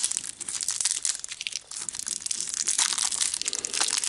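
Foil packets of Pokémon energy cards from an elite trainer box are torn and crinkled open up close, a dense, continuous crackling and crumpling with sharp bright rustles and no voices.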